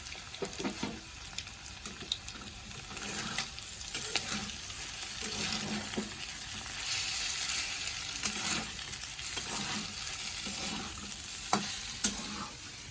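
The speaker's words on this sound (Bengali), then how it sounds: "আমি এর মধ্যেই ডিমটা ভেজে নিয়ে এই আলুগুলোর মধ্যে পুরো একদম করে ডিম ভুজিয়ে করে নেব আলু ভাজার ভিতরে" An egg fries with potatoes in hot oil in a wok, giving a steady, soft sizzle broken by the scrape and clink of stirring, with no voices.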